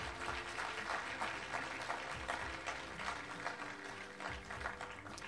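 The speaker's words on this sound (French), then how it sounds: "je vous prie d'applaudir très fort pour les cinéphiles, pour les cinéastes et tous les amoureux du cinéma que vous êtes" An audience at a 2018 film awards ceremony claps in a fairly steady burst for about five seconds, a broad room-filling patter with a few louder accents and no speech over it.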